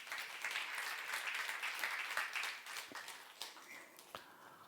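Church congregation applauding during a youth-service sermon, a steady wash of many hands clapping at moderate distance that gradually thins out with a few scattered claps near the end.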